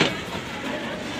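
A train rumbles past nearby, a steady low roar with faint rattling throughout the short stretch.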